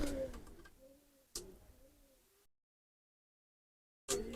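Pure 41-number Teddy breeder pigeons coo softly in a loft, two low rolling coos separated by a short pause, faint and close, then a gap of silence before another brief sound.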